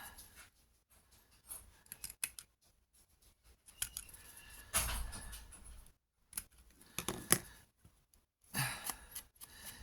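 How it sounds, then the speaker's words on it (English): Scissors snipping through paper to cut out small specimen cards, with intermittent close crisp cuts separated by quiet pauses. "Cut that out very well."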